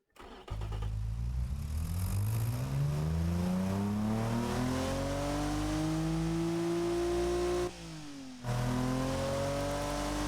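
A simulated car engine in the Automation game revs up from a start, its pitch climbing steadily for several seconds to a loud sustained drone, briefly cutting out and then resuming at a slightly lower pitch.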